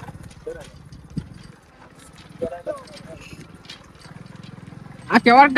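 Bullock hooves clop steadily on a hard road in a regular rhythm as a bullock cart travels toward Bhuleshwar, with a person talking over them and a sharp animal call near the end.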